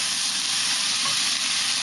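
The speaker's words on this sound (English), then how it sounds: "So this is going to stir fry for a little bit." Garlic and onion stir-frying in a pan, a steady, dense sizzle that stays close and even throughout with no voices.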